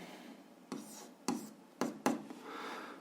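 Pen or marker strokes while writing out an algebra equation for a 7th-grade exercise: a few short, distinct scratchy marks spaced apart over a quiet background, fairly close.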